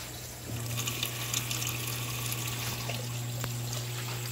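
An Electrolux LPR top-loading washing machine fills with water on a white-clothes cycle, a steady rushing flow with a constant low motor hum and a few faint clicks.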